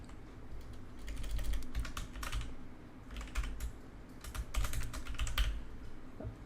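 Computer keyboard typing in short clustered bursts of quick keystrokes, close and distinct against a quiet room, entering a field name into a database.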